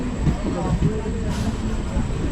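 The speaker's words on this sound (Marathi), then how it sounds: "चला आपली ट्रेन आलेली आहे" A train arriving at a station gives a steady, close, low rumble and rolling noise throughout, with a voice talking over it.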